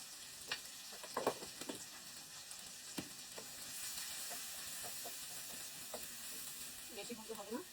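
Garlic and a little ginger fry in oil for chili chicken, a faint steady sizzle punctuated by scattered spatula taps and clinks, distant and low in level.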